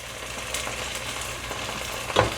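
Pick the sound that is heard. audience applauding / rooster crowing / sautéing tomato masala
sautéing tomato masala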